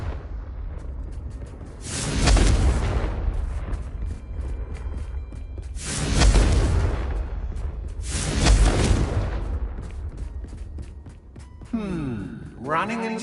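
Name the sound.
Confringo explosive curse spell blast in video game Hogwarts Legacy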